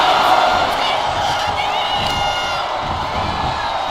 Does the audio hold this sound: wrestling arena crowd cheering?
yes